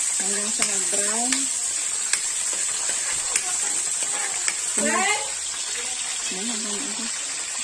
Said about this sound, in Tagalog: Sibuyas. Haluin. Hanggang sa mag-brown.